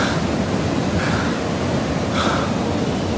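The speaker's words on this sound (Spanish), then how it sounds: "Se rebosó el agua por ahí, por esos túneles." Rushing floodwater from the overflowing Cauca River at Hidroituango pouring through tunnels, a loud, steady broadband roar that fills the whole span with no pauses.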